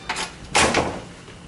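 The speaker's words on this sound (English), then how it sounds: "That was an epic door close." An elevator door in Cheatham Hall at Virginia Tech slides shut with a short scrape followed by a louder, fuller rumbling slide and soft thud, all within about a second.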